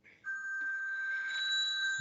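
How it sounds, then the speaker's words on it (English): A telephone rings during a podcast recording: a single sustained electronic ring tone, clear and moderately loud, running for a couple of seconds without talk. "That's a phone going."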